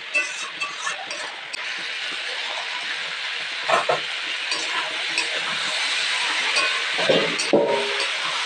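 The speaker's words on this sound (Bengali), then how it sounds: "তো দেখো সবজিটা ভাজাভাজি হচ্ছে" Radish and other vegetables fry in a pan with a steady, close sizzling hiss, broken now and then by faint clinks and stirring.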